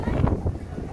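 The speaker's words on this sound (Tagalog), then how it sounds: "Ang lakas ng hangin." Strong wind buffets a microphone outdoors in Tagaytay, a steady low rumble across the whole moment with faint voices underneath.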